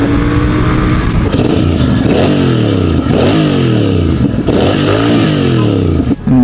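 A Royal Enfield Bear 650 motorcycle accelerating hard through the gears, the engine loud and close, revs sweeping upward repeatedly with brief dips at each shift.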